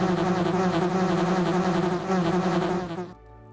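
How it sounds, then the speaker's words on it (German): Swarm of wasps in the 1996 video game Resident Evil, a loud, dense buzzing drone that holds steadily for about three seconds and then cuts off abruptly, leaving a faint hum. "Oh oh, die Wespen kommen."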